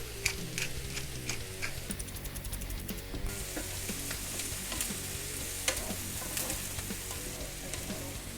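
Brussels sprouts and bacon fry in a pan with a continuous crackling sizzle, broken by rapid ticking spatters and some stirring clatter. The sound is close and fairly loud, with no voices.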